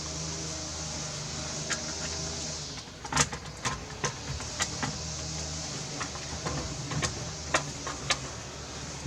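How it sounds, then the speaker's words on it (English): A small magnetic screwdriver drives tiny screws back into a PlayStation 2 slim console, giving scattered close clicks and ticks over a steady background hum. "Okay, so just going to screw these back in."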